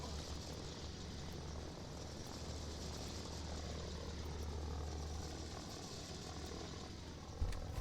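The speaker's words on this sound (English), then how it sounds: "try and take out these helicopters on the front line here" Helicopters hovering over the front line in a tank battle video game, a steady faint rotor drone with no break.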